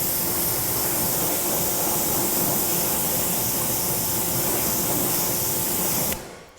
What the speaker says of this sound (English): So we're just going to quickly just pressure wash through this area.